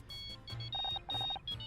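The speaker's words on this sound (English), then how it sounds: "1 second, I think that's my phone." A phone rings in the video game Murder by Numbers, giving quiet, repeated electronic beeping trills in short rhythmic bursts.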